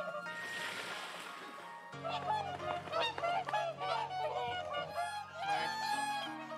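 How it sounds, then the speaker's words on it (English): Whooper swans wintering on the Hokkaido coast give loud, trumpeting honks, several birds calling over one another in a steady flock chorus. "Beautiful, graceful swans that come down the coast of Siberia and winter over here on Hokkaido."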